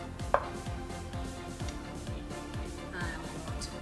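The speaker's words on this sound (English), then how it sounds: "I'm going to cut a little piece." A knife cuts through a vegan stuffed bell pepper in a bowl, giving a sharp tap followed by a series of soft, evenly spaced cutting and scraping strokes close by.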